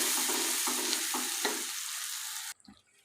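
Spices are stirred into an egg masala curry in a pan, with a dense sizzle and several rhythmic spoon scrapes that stop abruptly near the end, followed by a brief quiet clink.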